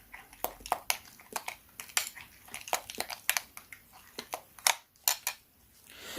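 Lip balm ingredients stirred together in a small container, giving a quick run of sharp clicking and scraping taps, close and irregular, with quiet gaps between them.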